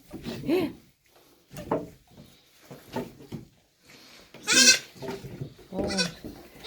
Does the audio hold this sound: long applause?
no